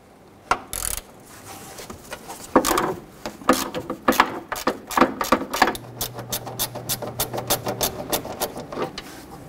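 Ratchet work on 13mm bolts on a 1997-2006 Jeep Wrangler front fender, with sharp clicking bursts that turn into a fast, steady run of close pawl clicks, plus a brief low hum, with no speech.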